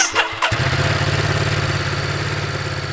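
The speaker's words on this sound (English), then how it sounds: "you start up the engine" A Ducati Multistrada V2S motorcycle engine cranks and fires up, then settles into a loud, steady, throbbing idle close by.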